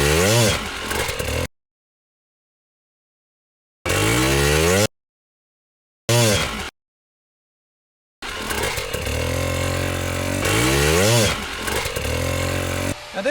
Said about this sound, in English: Letting that clutch out, not all the way right from where I am. I'm going to let the bike kind of roll forward.